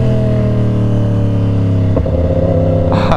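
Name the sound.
Yamaha R1 sport bike engine revving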